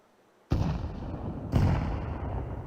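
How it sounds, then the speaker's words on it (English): Two loud, close blasts about a second apart from a thrown grenade in a video game, each a sharp crack that decays into a long rumbling tail with no voices. "Throwing a grenade."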